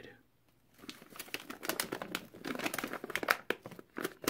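A ream of paper is sliced open after a 22LR or 9mm bullet penetration test, giving crinkling, tearing paper sounds and sharp cuts that build from near silence into a busy, close run of rustles.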